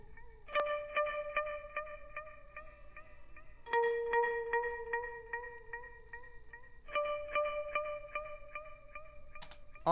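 A sustained electric guitar-like melody rings out with echoing repeats trailing each note, phrases starting and fading in a spacious, effected wash.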